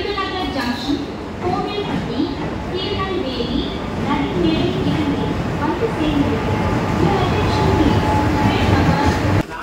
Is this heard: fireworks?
no